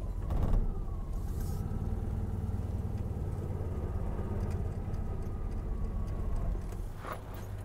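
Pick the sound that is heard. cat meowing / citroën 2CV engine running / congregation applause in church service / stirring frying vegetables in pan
citroën 2CV engine running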